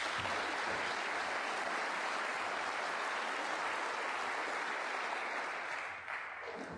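A snooker crowd at the English Open semi-final applauds with dense, sustained clapping that stays loud and even before easing slightly at the end.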